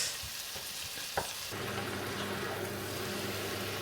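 Tomatoes drop into a pan of frying onions for pork sinigang, and the soft background sizzle swells into a louder, steady frying hiss after a brief clatter.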